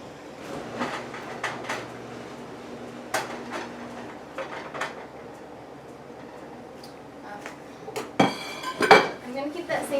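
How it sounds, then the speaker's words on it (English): Chopped potatoes tipped into a pan with oil: clattering pan and utensil knocks build to a burst of loud clinks and a sharp sizzle near the end, close by. "I'm going to just put them in the pan with the oil."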